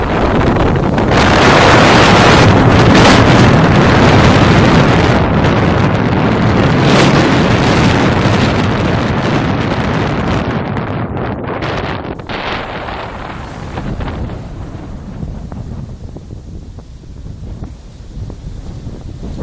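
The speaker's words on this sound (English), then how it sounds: "Really windy today. You probably hear that." Strong wind buffets the microphone atop an observation tower overlooking Yasaka Gorge, a loud roaring rumble with heavy gusts through the first half that gradually eases into a lighter, steadier rush.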